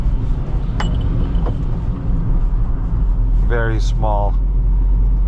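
A 2020 Daihatsu Hijet kei truck, a 4x4 with a 5-speed manual, gives a steady low engine and road rumble while driving. Someone talks over it, and there is a faint chirp near the end.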